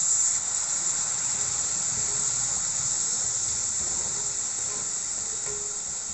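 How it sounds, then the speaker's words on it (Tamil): Tamarind paste sizzles as it is sautéed in a pan for egg tawa masala, giving a loud, steady hiss that runs unbroken throughout with no voices. "சேர்த்து நல்லா வதக்கி விட்டுக்கலாம்."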